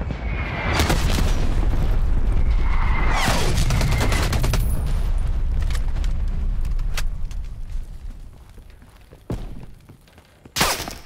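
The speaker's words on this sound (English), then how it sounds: "Artillery targeting detected. Neckle, incoming artillery." Incoming artillery strike in Call of Duty Black Ops Cold War multiplayer: a run of loud, close blasts and booming impacts with rumbling debris for several seconds, easing off into scattered distant thuds and one last sharp crack.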